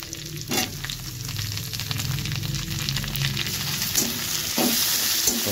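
Onion and tomato fry in a hot pan, a continuous close sizzle with occasional sharper pops and stirring scrapes, no talk over it.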